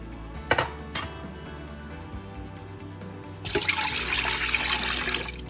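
A mixture of cornflour, sugar and orange juice pours into a pan in a steady splashing rush, close and fairly loud, after two sharp knocks of a utensil against cookware.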